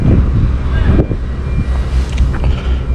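Wind buffets a microphone outdoors on a blustery day, a steady low roar with rising and falling gusts that fills the whole clip, with no one speaking.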